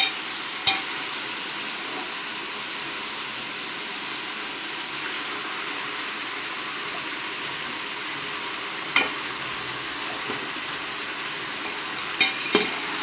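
Mutton fries for biryani in a pressure cooker, giving a steady, moderate sizzle with occasional sharp metallic clinks of a ladle against the pot as it is stirred, without any talk.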